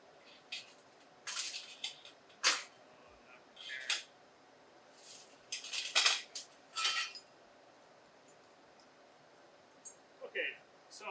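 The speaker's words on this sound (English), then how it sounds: "we're basically going to put that in there with a teaspoon" Teaspoon clinking and scraping against a jar and dish while scooping chutney for spiced honey cakes, a series of short, close metallic taps and scrapes separated by quiet gaps.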